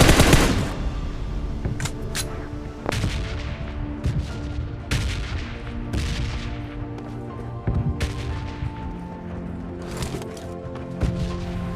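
A video-game battle with an M24 rifle fills the scene with loud, repeated gunshots and sharp cracks at irregular intervals over a constant, dense background rumble.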